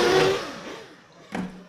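A small nitro engine of a 1/8-scale on-road RC racing car revs sharply and whines down during warm-up, then a second quick rev bursts out after a short pause, close and loud.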